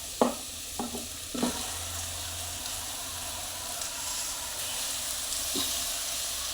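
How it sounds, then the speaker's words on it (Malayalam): Chicken goes into coconut masala in a frying pan, giving a steady, close sizzle throughout, with a few utensil clanks near the start. "ചിക്കൻ ഇട്ട് കൊടുക്കട്ടെ."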